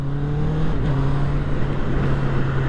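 Honda CBR650R motorcycle fitted with E-Clutch running on the road, a steady engine drone with a brief dip and step in pitch as it changes gear, loud and close throughout.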